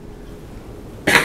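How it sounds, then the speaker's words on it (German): A single sharp cough bursts out at the very end after near silence, close and loud, from a German gamer playing DayZ. "Aber ich muss husten und ich kann mich nicht muten."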